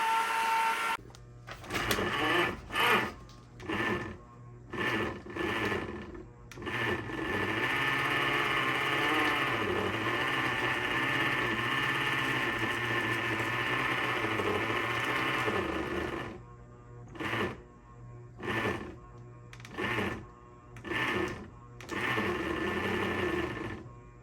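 Electric ice cream maker churning chocolate ice cream: a loud, close mechanical whir and rattle that runs continuously through the middle and pulses in short on-off bursts at the start and end, with no one speaking.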